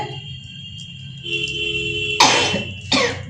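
Two sharp, harsh coughs ring out close by, about half a second apart, following a quiet stretch of faint background hum.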